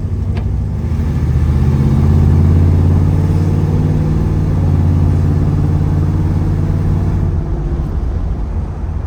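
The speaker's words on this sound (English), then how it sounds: "Monte Carlo drives straight down the road, guys." A 1971 Chevrolet Monte Carlo with a 454 V8 cruises straight down the road. A steady, deep engine rumble with road noise runs loud and constant, heard from the cabin, with no talking.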